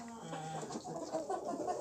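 Soft, scattered clucking from a few chickens, young roosters and hens, fairly close and steady, with low bird murmurs running throughout.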